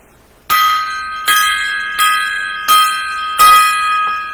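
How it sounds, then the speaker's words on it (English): A gong struck five times as a salute, each resonant stroke ringing out with a shimmering metallic sustain before the next hit, evenly spaced about a second apart and loud. "a 5-gong salute"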